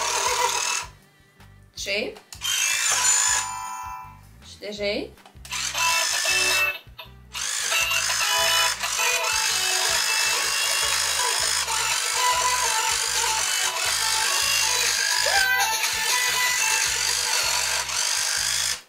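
Whirring electric motor of a Barbie princess horse toy, a steady buzzing drone running almost throughout with brief pauses early on, close and fairly loud, with a voice counting briefly near the start.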